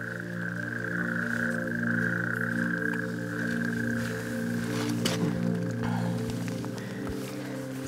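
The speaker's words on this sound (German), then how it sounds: "Das ist eine Kreuzkröte." Natterjack toad croaking in a nature park, a continuous loud purring trill with steady stacked harmonics, close and sustained, over faint background sounds.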